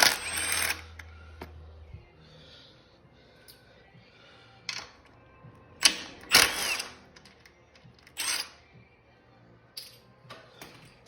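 Small half-inch nuts come off Harley-Davidson blinker brackets during fairing removal on a 2014-2022 model, heard as scattered ratchet clicks and sharp metallic bursts separated by quiet gaps, close by with no talk.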